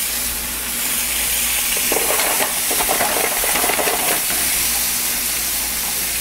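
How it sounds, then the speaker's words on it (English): Shrimp and scallops sauteing lightly in a pan, giving a steady close sizzle and hiss that swells briefly in the middle with a few stirring clatters. "And I'm going to saute them lightly."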